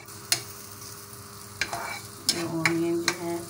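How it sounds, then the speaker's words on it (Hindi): Onions frying in a pan until browned, with a steady background sizzle broken by a few sharp spatula scrapes and taps spaced a second or so apart, close by and moderately loud. "इसमें जो है वो ऑनियन ऐड कर रहे हैं, और थोड़ा सा जो है इसको ब्राउन होने तक जो है वो फ्राई करेंगे"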